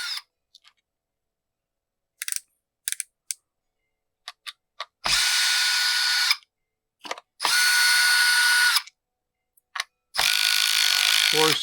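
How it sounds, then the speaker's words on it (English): A Snap-on power tool at full setting backs out the starter screws on a Stihl MS311 chainsaw, with three loud, close whirring bursts between small clicks and handling noises. "Gotta crank the old snap-on up to max to get this thing to back out."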